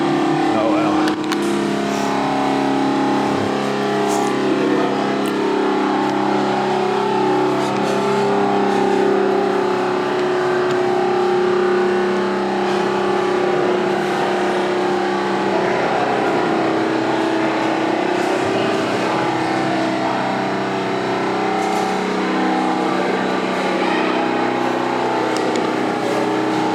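Loud motorboats pass close by, their engines droning with a steady, heavy roar that swells and persists, while someone talks over the noise outdoors.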